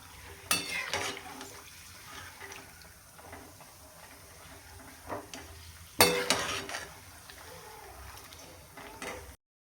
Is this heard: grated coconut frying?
yes